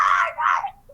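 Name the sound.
man imitating a loud scream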